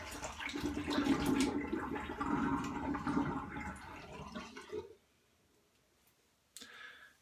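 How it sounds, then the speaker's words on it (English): Water drains from a bathroom sink after a shave, rushing and gurgling steadily for about five seconds before stopping, followed by near silence and a brief faint sound at the end. "So we're gonna drain the sink."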